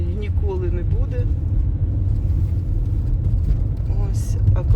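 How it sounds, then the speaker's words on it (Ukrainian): A car driving over wet snow makes a continuous low rumble with a slushy tire hiss, steady and close, while someone talks over it throughout. "Чуєте, як їде по мокрому снігу."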